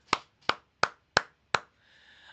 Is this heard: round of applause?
yes